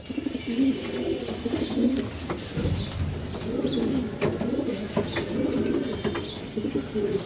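Racing pigeons coo steadily in a loft, many overlapping low burbling calls close by, with no talking.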